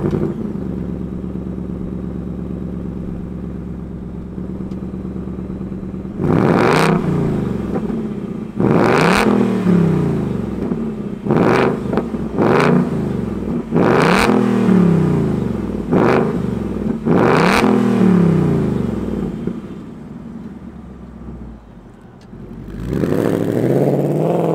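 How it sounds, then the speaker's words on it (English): A 2022 Ford Mustang Mach 1 V8 muscle car starts from a low idle, then rises through six sharp, loud throttle blips with deep rumbling between them, dropping back to idle before a final rev. "let's go ahead, let's fire it up and have a little bit of an eargasm with our Mach 1"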